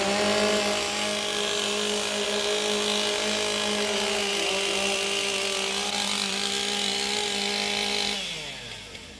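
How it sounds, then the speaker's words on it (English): Several STIHL MS661 chainsaws idle and rev loudly together at a timber sports competition in Australia, a steady continuous roar that holds for about eight seconds before dropping off. "Warm up your saws."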